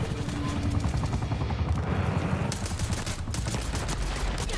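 Heavy, sustained gunfire from Black Ops 6 multiplayer, a rapid overlapping rattle of automatic weapons that runs without a break at moderate loudness.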